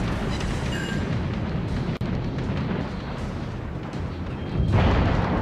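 Battleship guns in World of Warships on the Dunkerque, heavy booming salvos and rumbling blasts rolling continuously, with a sharp cut and a fresh loud boom near the end.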